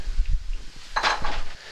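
Onions sizzle in hot bacon grease with a crackling hiss, close up, broken by a few clinks of a pan or utensil; no talking.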